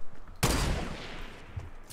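Gunfire in the video game Fortnite during a battle royale match: a sudden loud burst of shots kicks in and rings out, then decays into a hissy tail, close and dominant with no talk over it.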